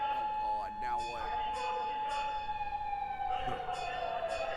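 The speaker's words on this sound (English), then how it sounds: "There were certainly plenty of sirens." Emergency vehicle sirens wail through a city street in the video game Yakuza, a steady high tone sliding slowly downward alongside other siren layers, fairly close, with a voice speaking briefly over the start.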